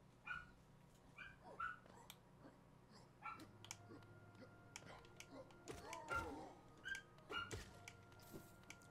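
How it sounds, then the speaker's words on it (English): A dog barks in a few short, faint yips from somewhere nearby, scattered among a person's talking and quiet game sounds. "Now there's a dog barking."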